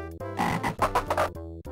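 Repeated croaks from a frog in Barney's Hide & Seek Game on the Mega Drive: a handful of loud, rhythmic synthesized ribbits in a close, clear burst, with no talking.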